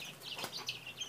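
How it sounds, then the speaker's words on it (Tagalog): Chickens cluck briefly and faintly, with a few short, quick calls in a backyard coop. "Tataray ng manok na to."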